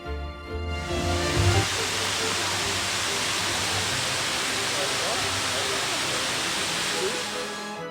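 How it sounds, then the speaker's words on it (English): Narada Falls, a large roadside waterfall at Mount Rainier National Park, roars as a steady, loud broadband rush that holds unchanged throughout, after a short lower rumble at the start. "This fall is the largest waterfall accessible by car in the park"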